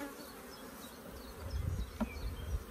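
Low, droning buzz of honey bees close by, growing busier and louder partway through, with a few brief sharper sounds.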